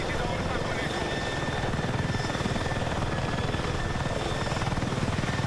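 A helicopter in the video game Battlefield makes a steady, rapid rotor thumping with an engine drone, loud and unbroken throughout.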